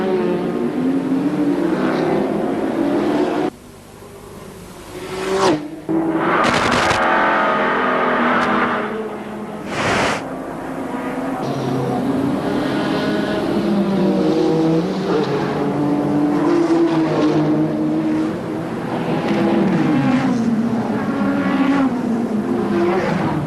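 A rear-wheel-drive Nissan Skyline GT-R race car howls around a New Zealand street circuit, the engine loud and close as it revs hard, with abrupt cuts for gear changes and lifts off the throttle between sustained full-throttle runs.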